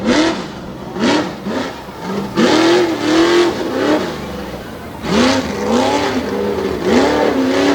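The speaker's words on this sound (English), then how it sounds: "Scott is one of the fastest with that big Windsor horsepower in the front of his Ford" A Ford mud racing truck with a big Windsor engine races at a mud track event in Susquehanna, Pennsylvania, its engine roaring and revving in repeated surges, loud and close, with an announcer talking over it.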